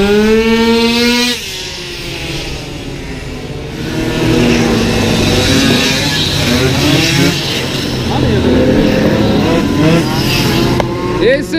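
Legend-class racing motorcycles tear past on the Bidalot circuit, several loud engine notes rising and falling in pitch as they approach and pass one after another, over a constant trackside roar.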